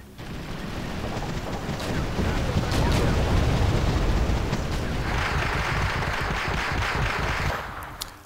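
Artillery barrage pounding a target area in the strategy game WEE: a dense, continuous rumble of overlapping blasts and booms, loud and sustained for several seconds before cutting off.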